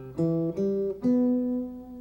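Three plucked acoustic guitar notes rise one after another in a short seventh-chord arpeggio, the last one ringing out and decaying, with no talking.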